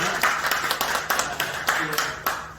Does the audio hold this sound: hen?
no